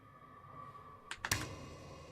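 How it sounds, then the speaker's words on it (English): A few quick keystrokes tap on a computer keyboard during the typing game Dead Letter Dept, a short cluster of three clicks over a steady low hum and otherwise quiet room. "What am I typing?"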